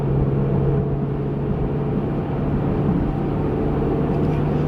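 A 2020 Range Rover Sport SVR accelerates from inside the cabin, its engine a loud, steady low droning rumble with a sustained hum, no voices heard.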